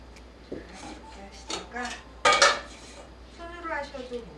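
Cookie dough for Christmas icing cookies, a low-moisture mix, worked with a spatula in a bowl: a few separate scraping and knocking strokes of the utensil against the bowl, close by and moderately loud, with brief pauses in between.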